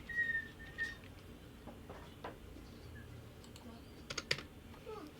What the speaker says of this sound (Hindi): एक फॉर्मूला टाइप किया है।